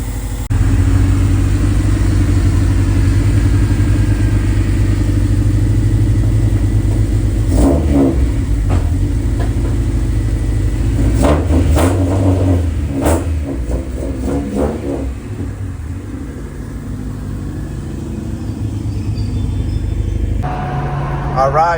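A car fitted with a swapped Honda B20 engine drives off under its own power, its engine droning and revving steadily with rumbling road noise throughout, close and loud.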